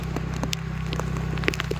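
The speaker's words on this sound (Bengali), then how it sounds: "পুরো বৃষ্টি হচ্ছে" Rain falls beside a canal outdoors, a steady wash of patter with scattered crisp drop clicks over a low constant hum, with no voices.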